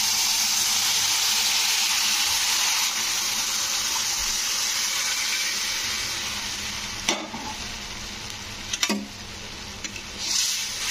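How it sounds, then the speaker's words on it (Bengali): Sugar syrup poured into semolina frying on a low flame for Bengali suji halwa, giving a steady broad hiss and sizzle that slowly eases, with a few sharp clinks of a spoon or pan near the end, no talk. "তো এবারে আমি এর মধ্যে দিয়ে দেব ওই যে সিরামটা, চিনির সিরামটা বানিয়ে রেখেছিলাম।"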